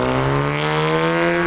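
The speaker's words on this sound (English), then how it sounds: "That was an old car" An old car drives past nearby in Kyrgyzstan, its engine giving a loud, buzzy tone that holds steady and rises slightly in pitch over a brief moment.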